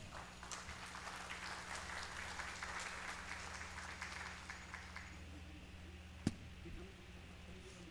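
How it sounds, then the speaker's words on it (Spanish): An audience at a public-sector directors' conference panel applauds steadily for about five seconds before the clapping thins out, faint and distant, with a single sharp knock just afterward. "Recibimos al señor Vlado Castañeda con un fuerte aplauso."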